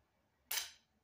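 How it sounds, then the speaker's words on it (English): A toy crossbow firing a wooden dowel bolt: one sharp, close snap with a brief decaying hiss, otherwise quiet. "And it's just a toy crossbow."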